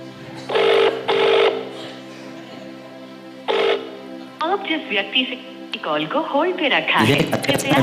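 A telephone ringback tone sounds in two quick bursts, pauses, rings once more, then an automated line-busy voice message plays, clear and close.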